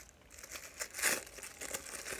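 Cardboard and plastic packaging from a Nintendo Switch headset box tears and crinkles up close in short, quiet bursts, with one louder rip near the middle.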